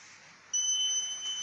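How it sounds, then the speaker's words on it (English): An Arduino water-level monitor sounds its buzzer alert for low water in an empty tank, a steady high-pitched electronic tone that switches on abruptly and holds loud and close, with no speech. "there is a buzzer and alert giving us that the water is what, very low"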